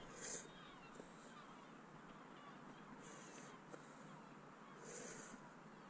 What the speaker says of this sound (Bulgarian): Чувам някакви птици.